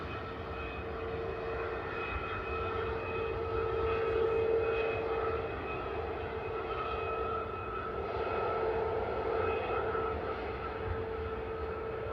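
KLM airliner on its takeoff roll at Manchester Airport, bound for Chambéry: a steady, sustained engine roar with faint tonal whine, swelling slightly midway, heard from a distance with no talk.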